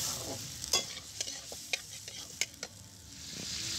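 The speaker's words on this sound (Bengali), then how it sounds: "আদা রসুন বাটা কষানোর পর এবার আমি এর মধ্যে মটনটা দিয়ে নিলাম। আর এবার আমি খানিকক্ষণ মটনটাও কষিয়ে নেব।" Mutton sautéed in a pan with ginger garlic paste and onion makes a soft, steady sizzle broken by quiet spatula scrapes and taps, heard close up with no speech.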